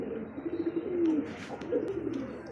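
A single Lahori pigeon, a blue-bar gerebar, gives low, continuous cooing with rising and falling rolls, close and moderately loud with no talking.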